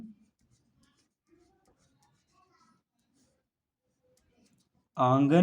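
Chalk or marker writing a math problem on a board, soft faint scratches and taps in short strokes, ending with a loud voice speaking.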